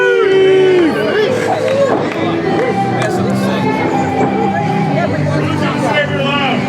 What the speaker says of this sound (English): I don't know if I'll ever get used to hearing people cheer for Preston Douglas, but I'm here for it.